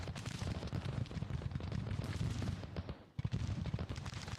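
Battle gunfire in the Civil War strategy game Grand Tactician: The Civil War, during the Battle of St. Louis. Dense, continuous musket volleys and rumbling cannon fire roll on at a distance, with a brief lull near the end before the firing resumes.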